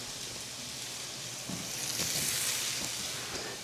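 Sausage sizzling in a pan with browned peppers and onions for shrimp and grits, a steady frying hiss that swells louder as the meat hits the hot surface.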